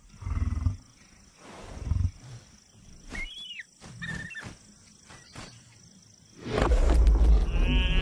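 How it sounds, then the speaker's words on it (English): Lioness roaring and growling while guarding a fresh kill in the drought-stricken desert, short deep snarling bursts that end in a loud, close, heavy roar, with a few sharp higher calls in between. "The lioness guards her fresh kill."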